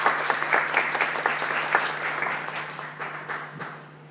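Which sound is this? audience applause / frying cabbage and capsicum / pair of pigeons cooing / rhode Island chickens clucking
audience applause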